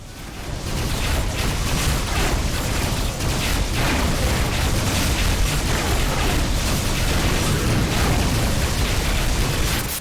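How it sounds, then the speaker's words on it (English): Missile explosions pound a spaceship in the space combat game Rebel Galaxy, a dense, continuous barrage of loud booms and bursts that fills the whole stretch without pause. "Missiles inbound."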